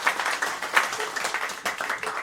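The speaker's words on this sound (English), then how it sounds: "So give yourselves a round of applause for supporting live music." An audience at a live concert at The Mainstay applauds with steady, dense clapping that fills the room without a break.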